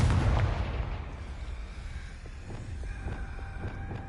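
Confringo blasting spell explosion in Hogwarts Legacy, a sharp burst that quickly fades into a rumbling tail, followed by faint crackles and small pops.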